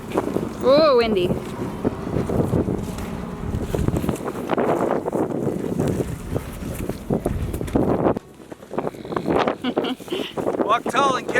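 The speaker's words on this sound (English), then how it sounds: "Ooh, windy." Wind buffeting the microphone outdoors on a homestead among cattle, a rough, gusty rumble that rises and drops throughout, with a brief break near the end and high chirping in the background.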